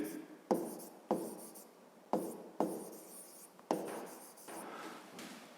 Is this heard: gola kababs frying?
no